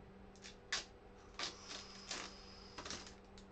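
Plastic packaging being peeled and crinkled off a brand-new ASUS Dual GeForce RTX 2060 OC graphics card, a run of close, crisp crackles and tearing rustles that come in short bursts over a steady low hum.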